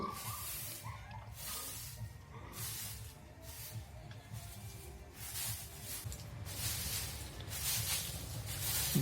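Broom sweeping dust, soil and leaves outdoors, steady rhythmic scratchy strokes repeating across the whole stretch, fairly close and growing slightly louder, no talking.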